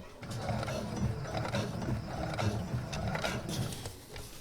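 Sewing machine backstitching ripstop nylon fabric, a steady mechanical whir with rapid ticking needle strokes that runs continuously at close range with no voices.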